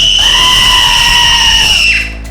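Anime characters let out a loud, sustained scream lasting about two seconds, shrill and close, with a noisy background beneath and a sudden cut-off at the end.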